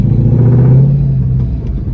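Close, loud low rumble of a drag car's engine at idle and light revving, with a steady droning tone that swells briefly and then settles, no talking.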